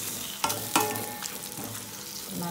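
Mashed tomatoes with turmeric sauté in a pan, a soft steady sizzle broken by a few louder spoon stirs and scrapes close by, without talk.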